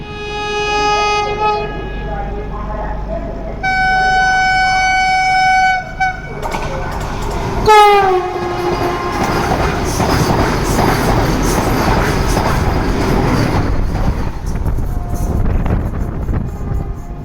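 The Mandovi Express on the Konkan Railway sounds its horn in two sustained blasts, then gets underway with loud, rising rumble and clatter of the carriages that fills the rest of the stretch.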